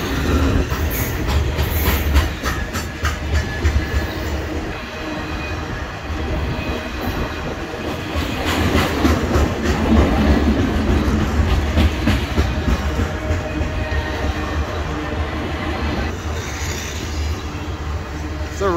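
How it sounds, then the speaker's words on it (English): A train rolls past steadily nearby on the Lake Louise–Bow River loop, wheels clacking rhythmically over the rails with a continuous rumble and occasional faint metallic squeal. "It's a really quiet train, this one."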